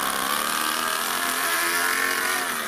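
A 2-cylinder 4-stroke overhead cam engine fitted in an RC car runs continuously, a loud, buzzy, even mechanical drone close by with no break.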